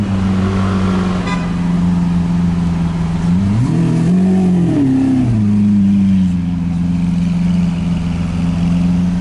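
A Lamborghini Aventador SV Roadster engine idles loudly close by, then revs in one sharp rising blip and settles back to a steady idle.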